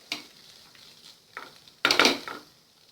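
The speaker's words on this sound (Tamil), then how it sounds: "அரிசி சேர்த்து நல்லா கலந்து விட்ட பிறகு" Basmati rice being stirred in a frying pan for cashew pulao: a few short scraping, rustling strokes, with the loudest burst near the end, close up and with no voices.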